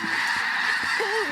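Snow geese honk overhead in a dense flock during a goose hunt, a continuous loud chorus of overlapping calls with one clearer honk standing out near the end.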